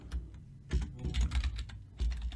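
Computer keyboard typing in short irregular bursts of clicking keystrokes, close and moderately loud, with brief pauses between runs and no talking.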